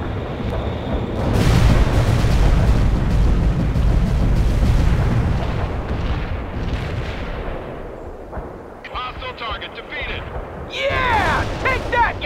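A World in Conflict air strike drops its bomb payload, bringing a long rolling barrage of loud, close explosions that fades into scattered crackling blasts and debris, with speech faintly present underneath.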